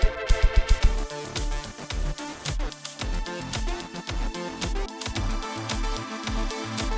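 A dense electronic track of Synthmaster 2.7 factory presets with punchy, driving beats, heavy bass and layered synth tones, playing steadily and loud.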